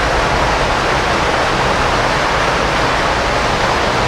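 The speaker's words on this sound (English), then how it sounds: "That's the water coming in." Wastewater flows into the inlet of a treatment plant as a loud, steady broadband rush of churning water, close and continuous with no pauses.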